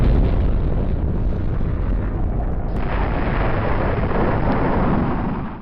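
A nuclear bomb explosion's sustained roar, a dense rumbling blast that stays loud and unbroken for several seconds before tapering at the end.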